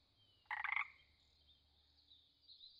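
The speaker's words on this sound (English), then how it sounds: "Amazon milk frog." An Amazon milk frog gives a single loud, close croaking call in a quick rattling burst, followed by quiet background with faint insect-like whine.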